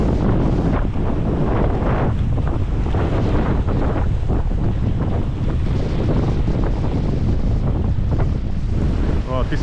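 Strong wind buffets a microphone aboard a small fishing boat at sea, a loud, constant roaring rumble with gusty surges throughout, waves and water faintly beneath it and a brief voice near the end.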